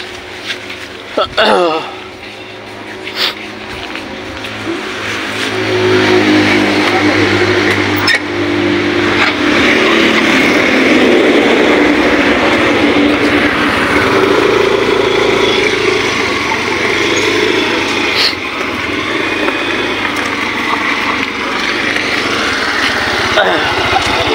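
Steady roar of highway traffic as cars pass close by, swelling louder after a few seconds and holding as a continuous broadband rush with engine hum underneath.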